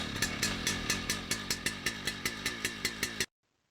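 Husqvarna 3120 XP chainsaw fitted with a 42-inch bar running on a log, a loud close engine roar with a rapid regular pulsing rhythm that cuts off abruptly into silence.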